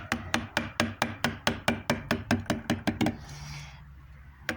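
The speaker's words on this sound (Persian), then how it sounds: "چکش منم حالت پلاستیک فشرده هستش" A compressed plastic mallet strikes a woodcarving chisel about fifteen times in a steady, even rhythm of close, crisp knocks, then stops, leaving faint room noise.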